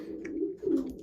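Young pigeons settling into a loft on their first night give soft, low cooing calls, two short murmured coos close by in a quiet space.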